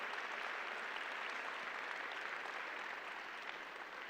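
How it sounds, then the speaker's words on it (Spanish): An audience at a lecture event applauds steadily, a broad even wash of clapping from many hands that holds at a moderate level for the whole stretch before easing slightly at the end. "Un fuerte aplauso."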